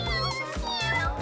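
Kittens at an animal shelter in a video game meow in a quick, close succession of high cries, layered over game music.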